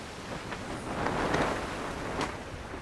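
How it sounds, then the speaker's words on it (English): Broadband wind rushes steadily against the microphone, swelling and gusting slightly midway, with no voices. "Y'all hear that wind? Listen."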